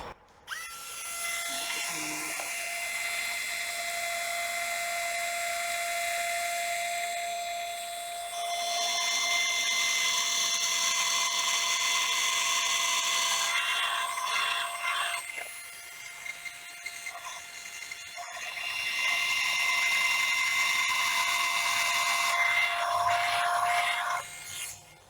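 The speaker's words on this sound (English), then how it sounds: "So I'll just get my drill ready." A high-pitched drill whines steadily in long bursts, pausing briefly between runs as it bores a hole in an HMS Victory model ship's crossbar, close up.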